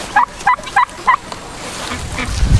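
Turkeys and chickens on an off-grid homestead during apple picking give four loud, evenly spaced calls close by, then a few fainter calls over a low rumble at the end.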